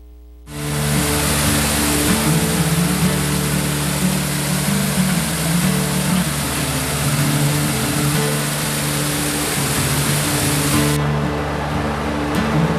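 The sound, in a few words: Taughannock Falls waterfall in full flow after heavy rain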